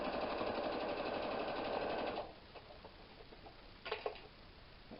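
Sewing machine stitching flat piping, running as a steady, fast mechanical rattle for about two seconds before stopping, followed by a quiet stretch with a couple of faint clicks near the end.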